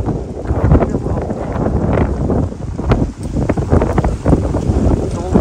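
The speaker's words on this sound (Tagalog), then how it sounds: "Ang hangin guys" Strong outdoor wind buffets the microphone in a steady, loud roar with rustling gusts, heard continuously over several seconds with no clear talk.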